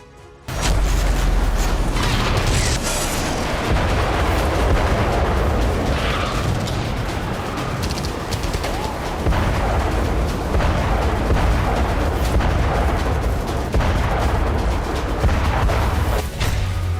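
Artillery shelling and explosions in Robotyne, Zaporizhzhia, form a loud, dense roar of booms and rumbling blasts that runs continuously after a sudden start.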